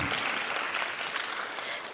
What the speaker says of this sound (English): oh yeah, you can clap for them.